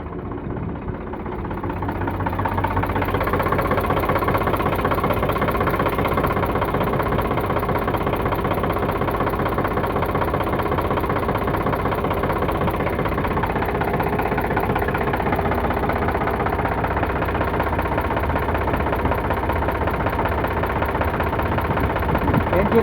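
An Eicher 368 tractor engine, running on fresh engine oil, idles close by with a steady low, throbbing rumble and even mechanical knocking that holds unchanged throughout.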